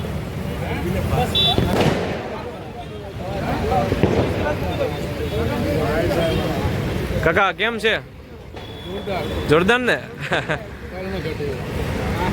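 Busy roadside traffic rumbles by near a crowded soda stall, vehicles passing close and loud in waves while people chat over it.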